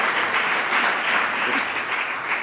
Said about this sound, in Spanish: Un aplauso para la compañera.